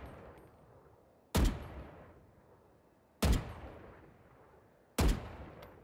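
Three rifle shots from the video game Valorant, evenly spaced about two seconds apart, each a sharp, loud crack followed by a decaying tail over low ambient noise.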